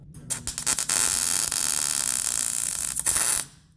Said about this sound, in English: we're just gonna fucking weld the ever living shit out of it there